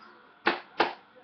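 Two sharp hand claps a third of a second apart, close and crisp against a quiet room, the opening beat of a song.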